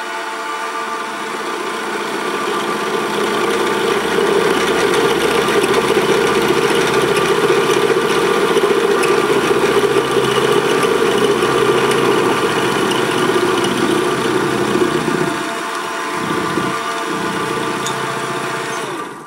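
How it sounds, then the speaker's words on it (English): A milling machine cuts a slot in a V12 camshaft with a steady, loud mechanical whirr and hum that holds for about fifteen seconds, then dips briefly and winds down. "Put this down to mill 30/1000ths of an inch deep. And we'll mill that slot."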